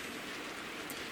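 Heavy rain pours steadily onto the roof of a small Citroen/Peugeot/Fiat micro camper van, a dense continuous hiss heard from inside with no breaks or talking.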